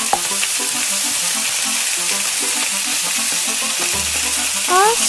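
Beef tripe and large intestines grilling at home, a constant crackling sizzle of fat under rhythmic low tapping and clinking, with a short low hum and a brief squeaky sound near the end.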